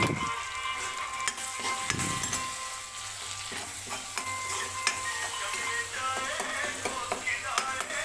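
Cumin, tomato and ginger sizzle and fry steadily in hot oil as a vegetable tempering is stirred, with occasional scraping clinks of a utensil against the pan, close and continuous.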